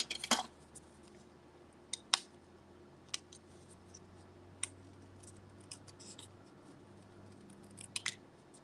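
Scissors cutting out a stamped paper piece, a few sparse, sharp snips and clicks spaced seconds apart over a faint quiet room background.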